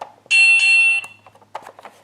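A loud, continuous high-pitched electronic beep from a Scrabble Turbo Slam game unit holds for under a second, then cuts off, followed by faint clicks and brief quiet voice fragments.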